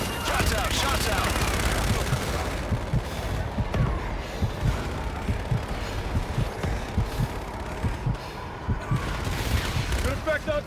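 A called-in fire strike in Call of Duty Infinite Warfare: heavy booming impacts and rumbling blasts roll on over a dense battle din, loud and sustained, with radio voices talking over it.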